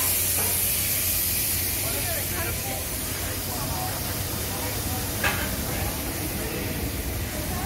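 Steam train at Flinders Street Station, a broad steady hiss of escaping steam filling the whole stretch at moderate level, with a brief sharper burst near the end and faint voices in the background.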